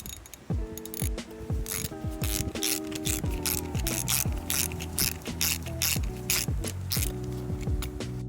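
A hand ratchet clicks steadily as it tightens spark plugs on a Yamaha 225 SHO outboard motor during a 300-hour service: repeated quick ratcheting strokes, close and clear, with metallic pawl ticks and short pauses between swings.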